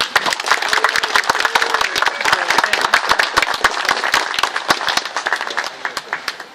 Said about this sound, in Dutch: Ik vraag een heel luid applaus voor Bo.